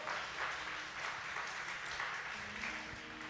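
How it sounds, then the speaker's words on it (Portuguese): Congregation applauding during a Portuguese-language church sermon, a continuous wash of clapping heard at a moderate distance and fairly faint, with a low tone entering briefly near the end. "aplauda o Senhor"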